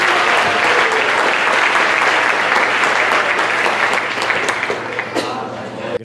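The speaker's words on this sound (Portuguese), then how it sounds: "As palmas louvem ao nosso Deus." Church congregation applauding at the opening service of a 2019 convention, a dense, steady wash of many hands clapping at close range that thins slightly toward the end.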